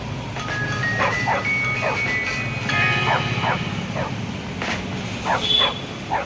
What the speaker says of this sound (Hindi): कुत्ता पीछे लग गया हमारे